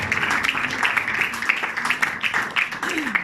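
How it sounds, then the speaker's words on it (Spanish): Church congregation applauding during an evening service, a dense, steady wash of clapping that carries on throughout at moderate loudness, with voices mixed in. "Podemos darle el mejor ese aplauso en esta noche al Señor"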